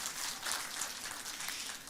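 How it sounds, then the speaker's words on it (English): Audience applause for Kim at a talk on mental health and aging, a steady, fairly soft wash of clapping filling the whole stretch without pause. "Just give Kim a round of applause, because she's the whole reason we're here"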